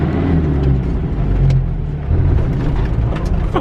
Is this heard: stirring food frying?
no